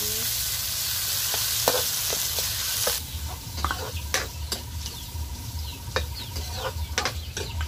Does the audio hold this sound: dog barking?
no